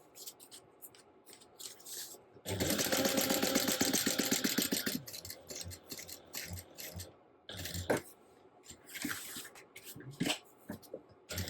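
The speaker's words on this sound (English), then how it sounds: "I'm going to top stitch down both sides of the seam at 1/8 of an inch away from" A sewing machine topstitches along both sides of a butterflied seam on a crossbody bag panel in one steady burst of about two and a half seconds. Scattered clicks, handling noises and soft movement sounds follow.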